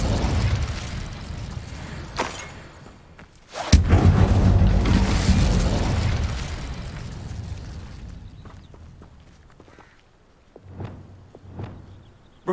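A sudden burst ignites an Incendio fire spell in Hogwarts Legacy, swelling into a loud, rushing roar of flame that slowly fades over several seconds, followed by a few faint thumps.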